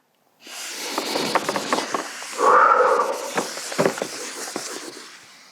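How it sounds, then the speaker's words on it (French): Charcoal scratches and drags across paper in a portrait drawing, a close, soft, hissy rasp with quick strokes and taps, swelling into one longer broad stroke midway. "Je dépose le fusain sur le papier pour vivre l'expérience, mais les yeux fermés."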